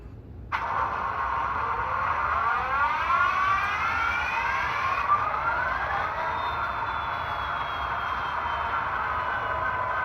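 Sound effects of an Athearn Genesis NS SD80MAC model diesel locomotive with Tsunami2 DCC sound start abruptly and settle into a steady humming drone with rising and falling whine, continuous and close, with no voices.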